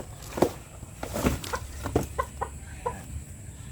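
A winning sweater gamefowl broodcock, its tail damaged from fighting, gives a string of short clucks and low throaty calls at close range, spaced irregularly over steady background hiss, with no talk.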